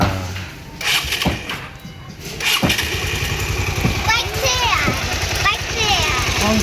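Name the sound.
motorcycle engine starting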